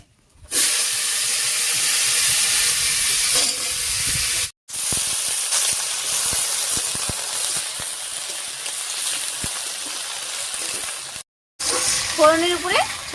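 Cut potatoes and yardlong beans tipped into hot oil over tempered whole cumin sizzle and hiss loudly and continuously, with brief dropouts and stirring scrapes; a voice speaks over the frying.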